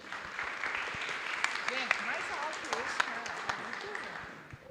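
An audience at a brand storytelling panel event applauds in a sustained patter of many hands that tapers off at the end, with someone talking over it.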